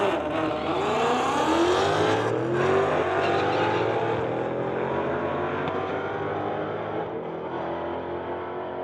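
Mustangs drag racing at Mission Raceways' Titanium Strip, a loud, sustained engine roar with rising gear-change sweeps that slowly fades as the cars pull away down the strip.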